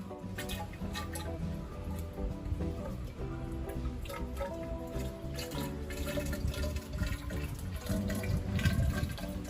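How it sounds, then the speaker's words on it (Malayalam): Water being filled into a pipe for a school liquid-pressure experiment, a faint, steady run of flowing and trickling water with a soft tonal hum in the background. "അപ്പോൾ ഇനി ഇതിലേക്ക് വെള്ളം നിറക്കാം"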